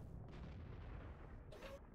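An artillery piece fires in the World of Tanks game, a heavy low boom near the start followed by a second burst of noise about a second and a half later, over a constant rumbling game background.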